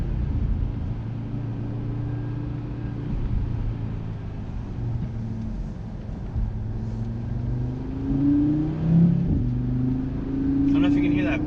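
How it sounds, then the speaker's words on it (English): 2018 Audi RS3 in Ara Blue driven hard through downshifts, engine revving and droning as the pitch climbs and falls, with a sharp pop on a gear change, heard from inside the cabin. "I don't know if you can hear that pop when you shift."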